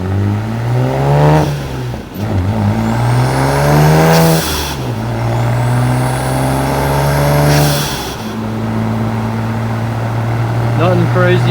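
Worn, high-mileage BMW 335i on a back road revs hard through several gears, each climbing engine pull ending in a shift, loud and close, with brief talk over it.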